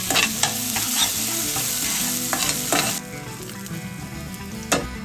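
Ginger, cumin and finely chopped green chillies sizzle and crackle in hot oil while being stirred, a loud, close, steady frying hiss that eases off partway through.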